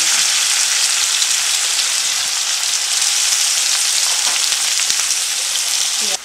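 Boiled jackfruit and potato hit hot oil in a pan, giving a loud, steady, dense sizzle that runs unbroken and then cuts off abruptly at the end.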